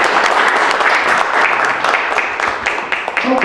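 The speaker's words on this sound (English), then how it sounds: "Let's give them applause" An audience at a women's union and community organizations event applauds loudly, close, dense clapping that stays strong for a few seconds and thins slightly toward the end.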